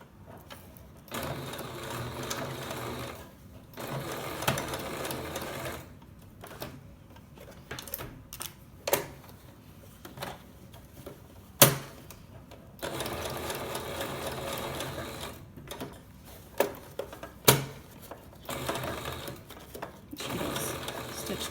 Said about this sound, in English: And I'm just going to stitch them together with a square.